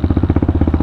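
A Pitster Pro 190fse dirt bike engine pulses with a fast, even throb close by on an off-road mountain ride, loud and steady in first gear.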